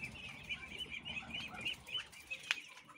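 Geese and chickens on a farm are herded into a coop after rain, with soft clucks and bird calls, wing flaps and shuffling in the pen, and a sharper squawk near the end.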